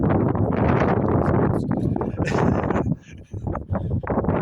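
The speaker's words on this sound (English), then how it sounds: "Dang wind." Wind blows outdoors straight into the microphone, making loud, rumbling buffeting that dips briefly near the end.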